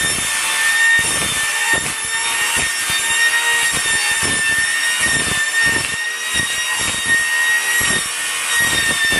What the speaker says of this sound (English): Why is he using a wood circular saw to cut metal?